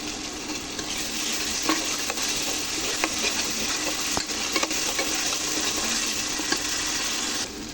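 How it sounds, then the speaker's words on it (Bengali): Spice paste with green chillies and garam masala being sautéed in a pan for a Bengali rohu fish-head curry, giving a steady, close, dense sizzle with frequent stirring scrapes and clicks, continuous throughout with no talking. "মশলাটা সুন্দরভাবে আমি কষিয়ে নিয়েছি।"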